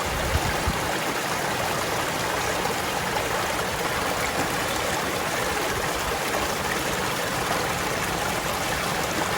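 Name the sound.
water flowing into a collapsible bag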